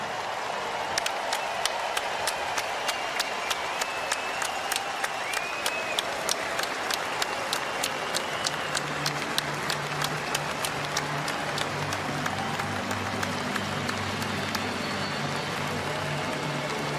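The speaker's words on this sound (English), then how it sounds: "give Steve a big round of applause so he can hear us loud and clear through his TV at home" Stadium crowd at a CFL football game between the BC Lions and Hamilton Tiger-Cats applauding in a long sustained wash of clapping, distant and broad, with a low drone joining later.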